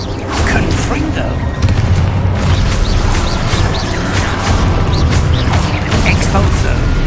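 Confringo fire spell explosions in the Hogwarts Legacy video game, with repeated loud booming blasts and crashes over a constant low rumble of game effects, continuous for several seconds.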